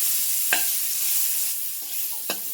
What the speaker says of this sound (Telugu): ఇప్పుడు ఈ ములక్కాయలు కూడా కడిగి ఇందులోకి వేసి ఫ్రై చేసుకోండి